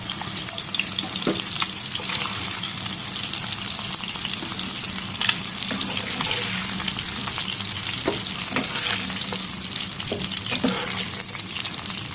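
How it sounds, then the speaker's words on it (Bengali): Rohu fish frying in hot oil crackles and sizzles steadily, with occasional sharp pops and faint utensil clicks throughout. "মাছগুলো ফ্রাই হয়ে গেছে এখন আমি সব মাছগুলো নামিয়ে নেবো"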